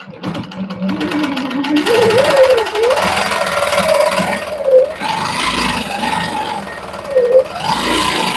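A sewing machine stitches free-motion dot quilting in bursts, its motor whirring and rising and falling in pitch with the needle's rapid rhythmic chatter, loud and close throughout.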